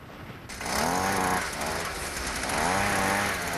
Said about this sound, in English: The scientists drill into the ice.